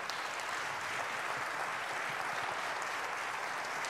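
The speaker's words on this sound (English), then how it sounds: "Let's give that round of applause to these candidates." Steady, fairly quiet applause from an audience at a candidate forum for New York's 10th congressional district, a dense continuous patter with no voices.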